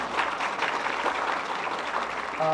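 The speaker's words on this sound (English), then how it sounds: "Give them a round of applause, everyone," An audience at an Islamic talk applauds the youngsters who helped, giving a continuous, even crowd clapping at moderate volume that fills the whole stretch without pause.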